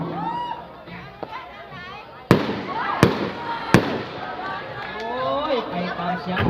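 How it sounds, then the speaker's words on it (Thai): Ta lai spinning fireworks at a Thai mor lam folk music event, with three sharp bangs among crackling and whistling under lively crowd chatter and voices. "เสียงตะไลเด้อพ่อเด้อ"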